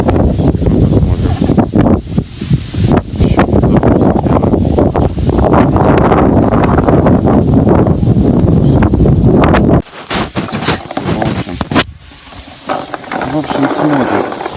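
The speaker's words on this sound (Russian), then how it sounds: "Постоянно из-за сильного ветра. Не знаю, что по качеству звука будет." Strong wind buffets the microphone on a carp-fishing outing, a loud, continuous roaring rumble with gusty surges under someone talking, easing briefly near the end.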